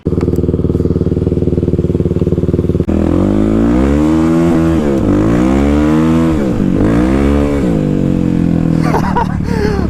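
A Kawasaki KLX351 dirt bike on ice roars loud and close, holding a steady idle before climbing into repeated wavering revs that rise and fall as the rider throttles, ending in a brief rattle.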